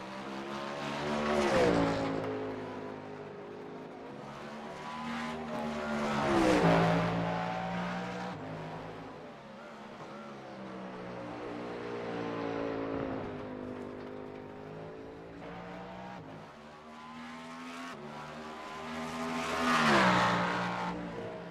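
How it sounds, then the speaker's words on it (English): Cadillac and Ferrari race cars at the Spa 24 Hours pass one after another, engines swelling loud as each nears and fading away, with rising and falling revs over about twenty seconds. "Caddies do sound good. I do like the Ferrari sound too, though."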